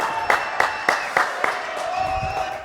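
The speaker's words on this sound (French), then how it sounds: "Allez, on applaudit Gislain quand même." An audience on a French live show claps for a singer about to perform: a handful of sharp, evenly spaced claps with faint crowd murmur between them.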